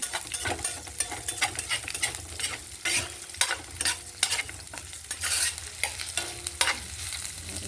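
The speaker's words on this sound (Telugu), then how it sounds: "ఇక పోపు వేగుతుంది కదా" Tempering of chillies frying in hot oil, a close crackling sizzle broken by frequent scraping stirs and metal spoon taps in an uneven rhythm, with no voices.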